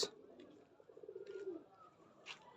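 Pigeons on a rooftop garden give soft, rolling coos, a quiet run of repeated low calls that rises and falls over faint background noise, with a brief higher rustle near the end.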